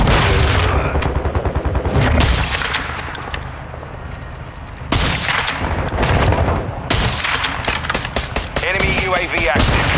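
Dense automatic gunfire and booming blasts from a Call of Duty: Modern Warfare 2 firefight, loud and nearly continuous over ten seconds with rapid bursts and heavy impacts, a voice briefly heard under the shooting.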